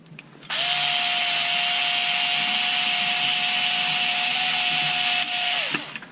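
A power drill or driver runs in one steady, loud burst for about five seconds while an interior panel is taken off a car, spinning up sharply, holding an even whine, then winding down.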